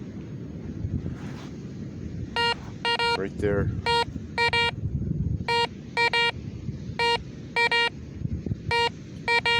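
Metal detector on a beach at Cape Canaveral, locking onto a nickel-sized target about six inches down, gives repeated short electronic beeps in quick pairs and triplets over steady wind and surf, with someone talking throughout.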